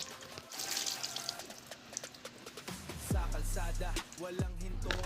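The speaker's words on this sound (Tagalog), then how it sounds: "So pag natanggal na, hugasan nyo na ulit, banlawan nyo" Running water rinses a washed Rusi TC motorcycle part after sticker removal, a close splashing flow from a tap that swells and drops as the part is moved under the stream.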